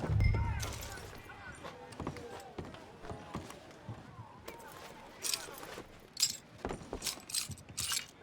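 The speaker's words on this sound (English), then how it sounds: "Look for the keys." Keys jangle in Red Dead Redemption 2 as a body is searched, a run of bright metallic rattles and clinks growing busier toward the end, mixed with footsteps and background game sound.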